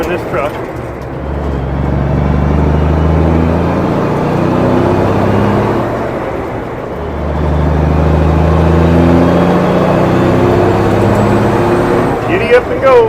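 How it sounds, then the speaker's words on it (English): A truck drives along a road with a steady, loud engine drone and deep rumble from inside the cab, with the engine note rising in two long swells. "I do love driving this truck."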